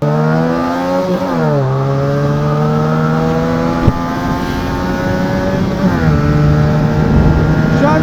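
An RKS SRK250RR motorcycle engine accelerates uphill, its loud, close whine rising in pitch through gear changes, with a brief dip and another climb as the rider shifts.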